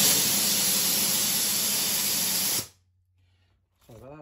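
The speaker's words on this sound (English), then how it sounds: "that's a compressor going off in the dump valve" An air compressor vents through its dump valve in a loud, sustained rushing hiss that cuts off abruptly, followed by near silence and then a short burst of a voice.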